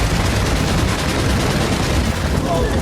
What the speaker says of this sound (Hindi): वहां भीषण गोलीबारी शुरू हो गई